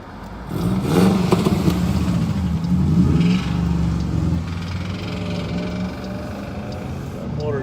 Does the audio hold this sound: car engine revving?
yes